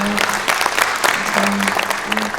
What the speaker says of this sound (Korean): 우리 어머니와 정연태 친구에게 박수 한번 쳐주십시오.